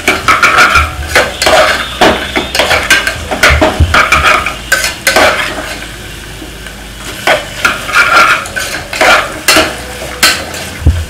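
Vegetables sautéed for pulao sizzle in a pan while a utensil stirs and scrapes against the metal in quick, loud bursts, with a brief lull midway.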